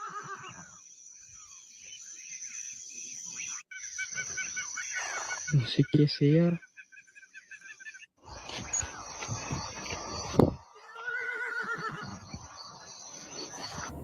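A horse neighs and whinnies several times in a dark, eerie outdoor setting, the calls loud and close, broken by scuffs and a sharp knock, with someone speaking Spanish between them.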